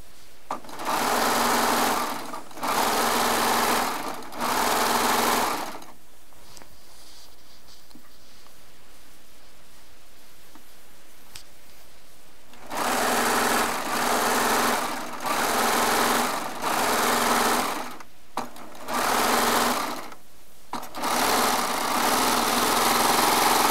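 A Baby Lock serger stitches jelly roll charm squares in loud, steady whirring runs a second or two long, broken by short stops and one longer quiet gap partway through.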